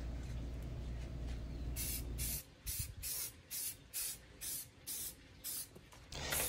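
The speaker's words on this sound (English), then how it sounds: "so that I could spray the hinges and no paint would get on the wall" A close aerosol spray paint can hisses steadily onto a metal gate, then comes in a series of short, regular bursts with brief pauses between them.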